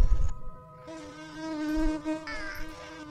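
Flies buzz in a stickman prison escape video game, a steady droning whine with shifting pitch that fills the clip alongside game noise.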